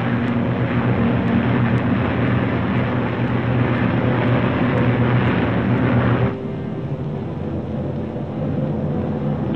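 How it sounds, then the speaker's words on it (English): Formation of P-51 Mustang fighters and B-29 bombers in flight, a steady loud broadband engine drone with no breaks that drops abruptly to a quieter, thinner hum partway through. "The Mustangs climb in formation to take positions above the boxes of B-29s."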